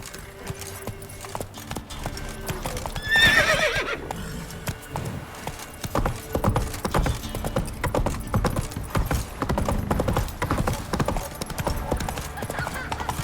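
Roach the horse in The Witcher 3 video game, a loud whinny followed by rapid rhythmic galloping hoofbeats that continue steadily, with faint talk beneath.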